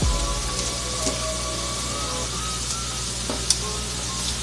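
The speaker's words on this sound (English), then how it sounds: "we're gonna let these saute a bit" Mushrooms saute in a hot pan, giving a continuous soft sizzle and crackle at moderate level with a few small pops.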